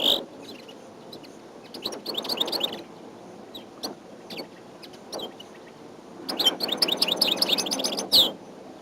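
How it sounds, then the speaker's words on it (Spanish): Numerous small wild birds chirp and twitter around improvised trees, with bursts of rapid high tweets coming in clusters near and far, no voices present. "alrededor y bajo los árboles improvisados se mueven numerosos pájaros"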